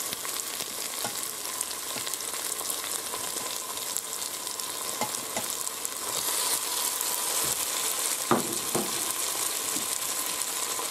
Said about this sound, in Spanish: Ya han pasado los 5 minutos y ahora echamos las carrilleras.